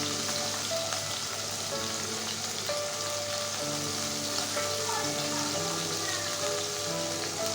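Salt and turmeric frying in oil in a pan, a steady broadband sizzle holding at an even level throughout with no talking.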